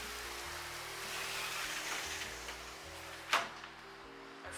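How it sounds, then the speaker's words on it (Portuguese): Heavy rain is muffled by a closed window, a steady, even hiss with a low background hum and one brief knock partway through. "Nossa, tá chovendo muito."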